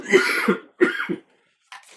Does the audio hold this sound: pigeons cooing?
no